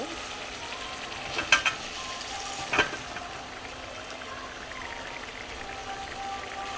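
Cauliflower and mixed vegetables stir-fried in oil, a steady close sizzle broken by two brief sharp scrapes of a spatula, with no talking over it.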